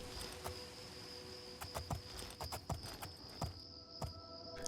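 Horse hooves clip-clop steadily on a path in the Elder Scrolls IV: Oblivion video game, a quiet, even rhythm of sharp knocks over a faint steady hum and insect-like chirping, with no talk.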